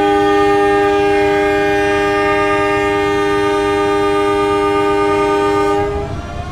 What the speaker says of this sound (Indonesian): kereta api Pasundan diberangkatkan kembali dari stasiun Madiun